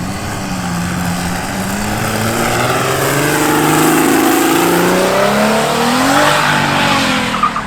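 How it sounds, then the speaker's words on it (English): V12-engined Toyota Hilux revving loudly and continuously nearby, the engine tone rising and sweeping steadily over several seconds. "Francois Fritz in that Toyota of his, that Hilux with the 12 cylinders"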